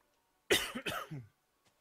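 A person gives a short burst of two or three harsh coughs close by, ending in a throaty rasp, with silence before and after.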